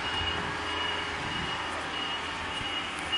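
A truck's reversing beeper sounds steadily over a busy outdoor background of traffic rumble, the tones moderately loud and continuous with no one talking.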